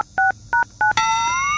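A telephone is dialled in a Gujarati village comedy sketch: three crisp, loud keypad tone beeps in a row, followed straight away by a steady ringing tone as the call goes through.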